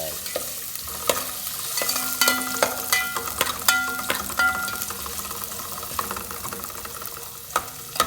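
Ginger, garlic and onion sauté in oil in a pan for native chicken tinola, a close, steady sizzle punctuated by repeated metallic scrapes and clanks of a spatula.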